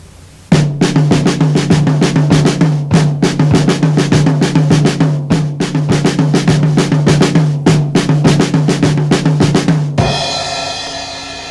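Dom Famularo plays snare drum and hi-hat together: a dense, continuous, loud groove of interlocking strokes with regular accents, ending in a sustained ringing wash after about ten seconds.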